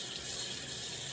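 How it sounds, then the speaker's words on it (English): A tap left running during handwashing, a steady close hiss of falling water into a sink, brief and unbroken with no talking. "you're going to leave the water running"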